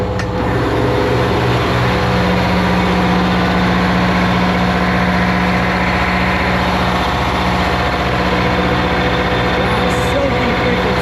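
The engine of a neglected 70-foot luxury yacht runs in its engine room. A loud, steady, low rumble with a continuous mechanical drone holds unchanged throughout, close up.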